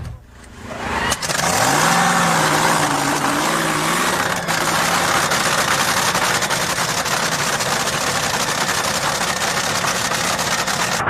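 A Top Fuel dragster engine roars loudly and continuously, revving up sharply near the start and then holding a harsh, steady blare.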